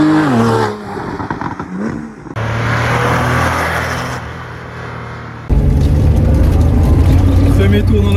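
Porsche 911 engine on a race circuit, loud and continuous, shifting through gears with rising revs that drop and climb again in steady sweeps, the engine note swelling sharply near the end.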